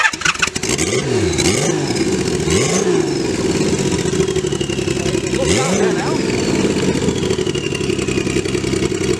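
Kawasaki Z1300 Turbo motorcycle engine idling loud and close, blipped several times into short revs that rise and fall, then settles to a steady rumble.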